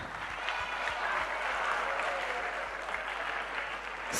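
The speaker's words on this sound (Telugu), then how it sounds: "clap for your self that you became a graphologist" Steady applause from an audience at a graphology talk on handwriting and signatures, dense and continuous across the whole stretch, with many overlapping claps at moderate loudness.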